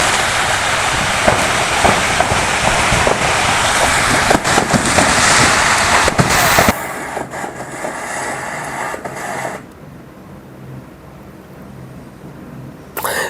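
Fireworks going off at a burning fireworks warehouse: dense, loud crackling bursts and sharp pops in a continuous barrage, which drops off abruptly to a quieter rumbling background midway.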